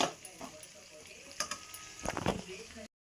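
Chopped onions fry in hot oil for a dry fish tomato curry, a soft low sizzle with a few stirring scrapes toward the end, faint and close, under no clear talk.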